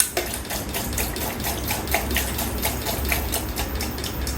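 A Delco Rochester four-grommet three-speed wiper motor runs on medium speed in wash mode. It gives off a steady, fairly loud mechanical whir, with rapid regular ticking and clicking pulses running through it from start to finish.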